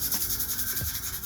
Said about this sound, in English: So I'm just jumping straight to a 400 grit piece of sandpaper.